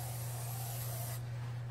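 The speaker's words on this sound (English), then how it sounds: "sprayed a little oil in it" Short hissing burst of an aerosol spray can misting a little oil into a small concrete form, steady for about a second and then cutting off, close up over a low constant hum.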